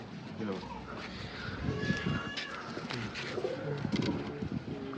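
Pigeons in a loft coo softly and repeatedly, with someone talking over them and faint rustling in the background.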